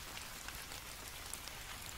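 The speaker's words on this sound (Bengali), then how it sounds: "এই যে ঝড় বৃষ্টি শুরু হয়ে গেল" Heavy storm rain as a cartoon sound effect, a quiet, even patter of drops steady from start to finish.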